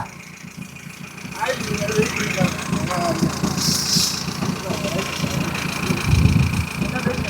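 A used car's engine idles nearby with a steady low rumble, and people talk over it throughout.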